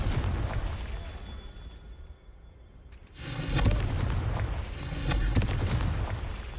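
Confringo explosive spell cast in Hogwarts Legacy: two loud, booming blasts with rumbling, crackling tails, the second following about a second and a half after the first, over a low background hum.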